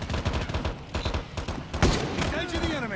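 Rapid bursts of gunfire in the shooter game Call of Duty: Mobile, clustered shots crackling throughout with a sharper loud blast near the middle, set against busy game sounds and a voice talking.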